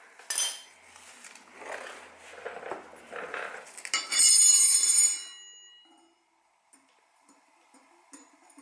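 A warped metal front brake rotor from a KX65 dirt bike clinks and rattles against a table indoors in a bright metallic flurry, then settles to near silence with a few faint taps.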